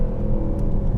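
A Mercedes-AMG GT 63S engine drones loud and steady from on board, a dense low rumble without a clear rev rise, on a twisty road with tight corners.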